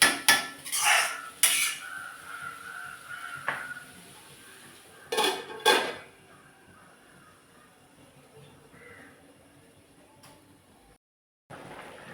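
Metal lid and pan clatter while pumpkin halwa cooks on a low flame: a few sharp clanks early on, then two more close together, followed by a long, quiet stretch.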